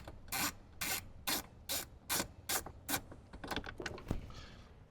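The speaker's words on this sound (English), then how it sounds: "you're probably going to need to use your socket" A socket wrench ratchets out a bolt during a speaker install on a 2015–2018 Jeep JK Wrangler: about eight evenly spaced rasping clicks, close and moderately loud, then a looser scatter of softer clicks, with no talking.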